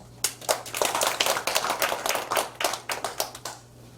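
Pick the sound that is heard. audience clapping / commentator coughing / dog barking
audience clapping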